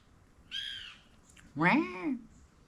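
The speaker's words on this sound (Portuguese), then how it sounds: "passarinho, fale comigo, rapaz." Two short bird calls sound fairly close, the first a thin whistled note and the second a louder, harsher squawk with a falling harmonic sweep.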